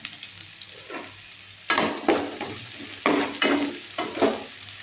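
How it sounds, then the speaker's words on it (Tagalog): Onion and garlic sautéing in a pan, a steady close sizzle broken by several loud bursts of stirring and spatula scrapes, with no talk. "Igisa lang po natin guys ang sibuyas at bawang."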